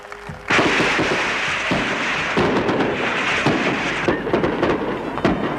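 Fireworks at a Spanish victory celebration, a dense run of booming bursts and crackling pops following one another closely, loud and continuous after a sudden start, with no talk.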